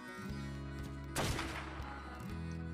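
Gunfire in the video game Ark: Scorched Earth, shooting at mantises: a sharp burst of shots cuts in briefly over a droning, humming game background, fairly close and without voices.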